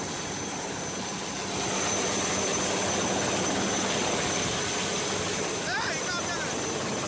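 A Coast Guard rescue helicopter flies over a flooded area in Odisha, its steady broadband rotor and engine roar swelling louder partway through and holding, with a voice talking faintly underneath.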